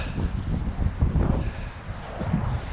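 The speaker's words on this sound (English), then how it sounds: "So, feel that wind." Outdoor wind at a riverbank buffets the microphone in steady gusty rumbles for a few seconds, with no talking.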